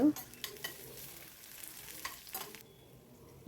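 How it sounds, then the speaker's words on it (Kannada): Garlic frying in a pan makes soft, steady crackling and sizzling with occasional stirring scrapes, faint and close-up, with no talking. "ಈಗ ಬೆಳ್ಳುಳ್ಳಿನೂ ಸ್ವಲ್ಪ ಫ್ರೈ ಮಾಡ್ಕೊಳ್ಳೋಣ"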